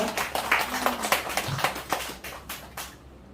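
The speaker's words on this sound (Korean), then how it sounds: "우리의 박수가 선물이 되겠습니다. 네, 박수 한번 해주세요" Audience applause during a poetry-writing lecture: a modest group of hands clapping in uneven bursts, close and moderately loud, tapering off within a few seconds.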